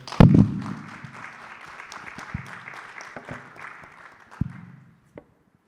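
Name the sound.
audience applause for panelists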